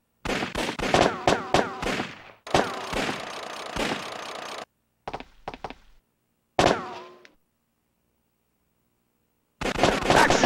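Bursts of gunfire from the PS1 light-gun arcade shooter Time Crisis, rapid clustered shots in the opening seconds followed by isolated blasts and short volleys separated by silent gaps, loud and close.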